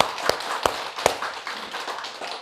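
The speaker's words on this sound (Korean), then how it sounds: "스스로에게 박수." Audience clapping during a Buddhist monk's Lotus Sutra lecture: three sharp, separate claps in the first second, followed by a few softer, scattered ones.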